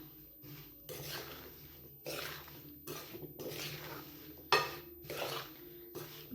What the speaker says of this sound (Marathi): हे मिक्स करून घेऊयात आपण.